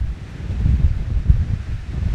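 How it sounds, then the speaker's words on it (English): Low, rumbling wind buffets the microphone in continuous gusts outdoors while metal detecting around an old home, loud and close, with no other sounds standing out. "the wind is just gusting"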